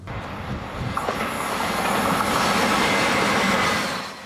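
A train rolls past on the coastal Cinque Terre railway line in Liguria, a broad rumbling roar with faint wheel squeal that swells steadily and stays loud and close, with no voices.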